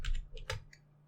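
A couple of crisp computer keyboard presses, the mod key plus Q, give a quick pair of sharp clicks, close and isolated against a faint low hum.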